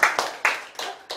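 Hand claps at a Korean community meeting with a city mayor, five sharp separate claps in about a second, close and clear with no talk over them.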